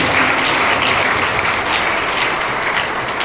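A crowd at a Holy Mass for the inauguration and blessing of the Mother Teresa Catechetical Pastoral Centre gives loud, continuous applause that stays close and even throughout.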